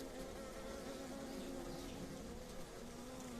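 Honey bees hum inside a hive as drones emerge from their cells, a dense, steady buzzing held close and even throughout.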